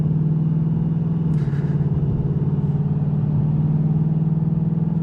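A 2024 Ford Mustang GT (S650) being driven on a road, its engine giving a steady, close low drone that holds throughout without any talking.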